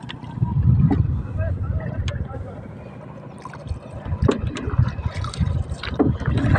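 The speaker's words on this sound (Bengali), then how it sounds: "জীবনে যে নৌকা চালানির অভিজ্ঞতা বহুত দিন পরে আবার কাজে লাগালাম।" A wooden boat being rowed across open wetland water near Enayetpur, Bangladesh, with a steady wash of water and wind noise that swells in places, under faint background voices.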